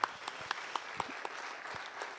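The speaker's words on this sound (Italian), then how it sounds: "A Francesco credo che meriti veramente un altro applauso" A small audience at an Italian book presentation gives a reader another round of applause, with sparse, fairly faint clapping and a few distinct louder claps standing out.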